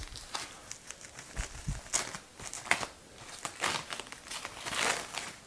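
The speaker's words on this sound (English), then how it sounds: "Lucy, unwrap it." Paper wrapping crinkles and tears close up as a sword package is unwrapped, a busy run of irregular rustling and crackling bursts.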